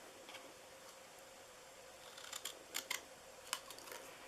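Scissors snip through paper for a gumball machine treat box, giving a few quiet, close, crisp cuts in a short cluster near the end over a faint background hiss.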